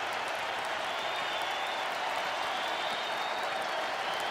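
A baseball stadium crowd at a Yankees–Brewers game cheers and applauds in a steady, dense wash of noise that holds at an even level throughout, with no single voice standing out.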